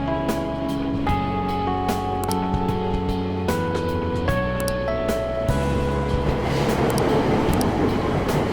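Subway train in Persona 5 at Aoyama-Itchome station, with a sequence of chime tones and a sustained hum followed by a rising rumble of the train moving off, loud and close.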